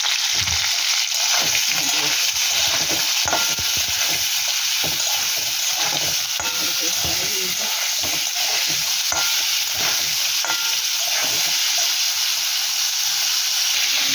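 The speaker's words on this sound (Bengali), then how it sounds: "ফুলকপিটা ভেজে দিচ্ছি ভালো করে" Cauliflower frying in a pan seasoned with salt and ground black pepper, giving a steady, close sizzle and crackle broken by frequent scraping stirs, with no talking.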